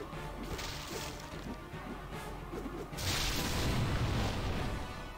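Loud, dense Baldur's Gate: Enhanced Edition game noise with thumping hits, then a heavy crashing explosion bursts out midway and roars on in a thick rumble.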